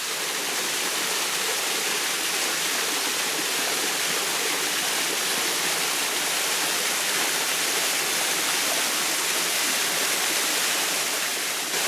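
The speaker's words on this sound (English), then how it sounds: "It's a great place to sit down and have something to eat and enjoy the waterfall." Steady, full-bodied roar of Springwood Falls, constant and broadband with no pauses, close by and fairly loud throughout.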